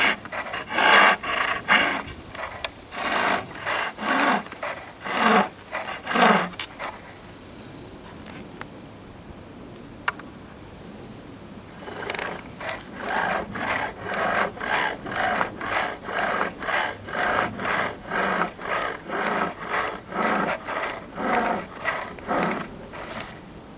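Wood spinning on a lathe as a spindle gouge and skew thin a spinning top, giving a rapid rhythmic scraping pulse that fades briefly mid-way, then resumes steadily and close.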